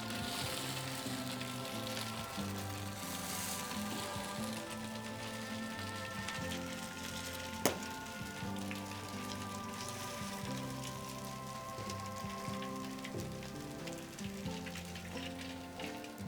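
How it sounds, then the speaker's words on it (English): Constant hissing sizzle of latkes frying in oil in a pan, an even crackling texture that runs without pause, with a single sharp tick partway through. "Once you have your latkes frying in the pan for about a minute"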